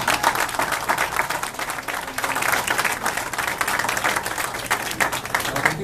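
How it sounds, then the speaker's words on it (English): Rally crowd at a small business event applauding business people who add jobs; dense, steady clapping fills the whole stretch at close range, loud and continuous with no talk over it. "let's give a big applause to all the business people who are adding jobs."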